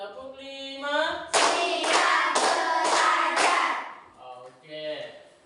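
A classroom of students claps together in a rhythmic pattern, five quick loud unison claps in a row, with a teacher's voice speaking before and after the burst.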